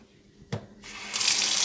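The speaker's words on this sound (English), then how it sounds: "I'm going to turn on the cold water." Cold water gushing from a kitchen sink tap, opening with a knock of the handle, then swelling into a loud, steady splashing stream, close by with no talk.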